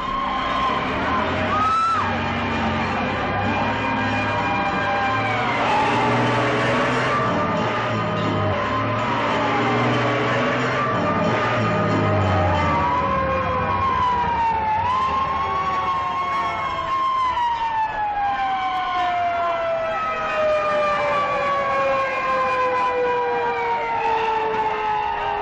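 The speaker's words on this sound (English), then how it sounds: "Call that fire engine, Mac." A fire engine siren in a 1939 film wails continuously with rising and falling sweeps, loud and sustained across the whole scene while other noise and voices mix underneath.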